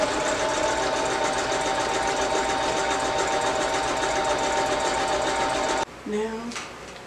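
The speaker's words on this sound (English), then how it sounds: "Now you're going to sew over your closure." A sewing machine stitches down a wig closure, running in a steady loud whir for about six seconds before stopping abruptly, after which a brief voice is heard.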